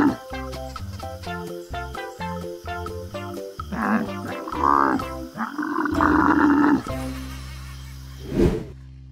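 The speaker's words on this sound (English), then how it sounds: "Dromedary Camel." A dromedary camel gives a series of deep, gurgling, throaty groans and bellows close up, rising into a rough roaring call before a final grunt.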